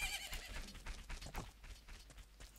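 Epona the horse in the Zelda game Majora's Mask: faint hoof clip-clops and a brief whinny, soft and slightly distant, with no talk over them.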